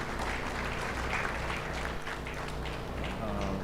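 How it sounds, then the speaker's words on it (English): An audience at a conference session gives a speaker another round of applause, a steady, moderately distant wash of clapping with voices murmuring beneath it. "Let's give him another round of applause."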